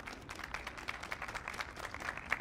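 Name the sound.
audience applause for Howard University students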